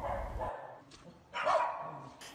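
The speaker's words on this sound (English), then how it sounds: "a huge group of dogs came out to greet us" A group of dogs barks outdoors, a few short overlapping barks and yips at moderate distance, fairly faint.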